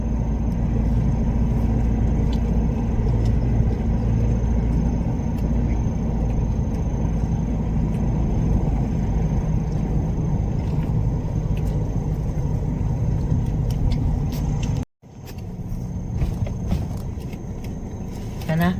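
Road traffic with school buses heading home on a crowded street: a steady loud rumble of engines and wind, briefly cut off near the end before resuming, with a person talking over it.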